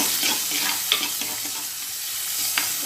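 Onions with ginger garlic paste sautéing in a pan for a mushroom gravy, a steady close sizzle with light stirring and scraping clicks throughout.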